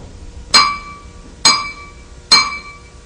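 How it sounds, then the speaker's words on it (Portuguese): Drumstick striking a glass of water three times, each a sharp bright ringing clink with a short decaying tone, spaced about a second apart in a quiet room. "Agora presta atenção no que vai acontecer quando eu bater com a baqueta no copo"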